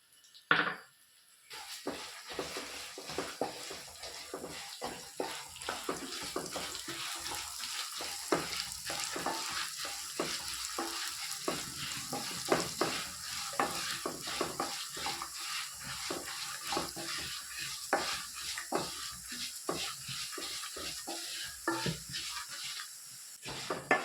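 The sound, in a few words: dry-roasting coriander seeds and chili in a pan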